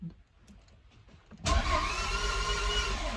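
A Toyota MR2 engine cranks and fires at about 1.5 seconds, then settles into a loud, steady idle with a broad rumble. Before it catches there are only faint clicks and a quiet background.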